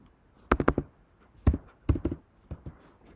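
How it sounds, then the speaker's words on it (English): Typing on a computer keyboard: a few quiet bursts of close key taps come in short clusters with pauses between, and no talk. "did you notice here when I was typing here like this"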